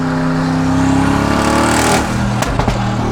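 A very loud Mercedes G-Class engine revs hard, rising to a roaring peak before dropping with sharp pops and crackles, close and alone without talk.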